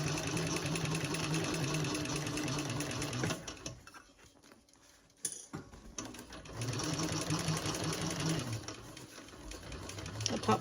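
A sewing machine top-stitching fabric runs loud and steady, pauses for about two seconds, then resumes its even mechanical whir.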